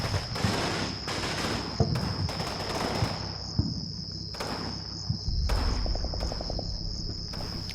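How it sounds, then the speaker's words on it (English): Machine gun teams firing in the Combat Mission Normandy video game, scattered bursts and single cracks over a constant high insect-like chirring ambience, with a faint rapid burst late on. "They begin to take fire from my scouting element over here"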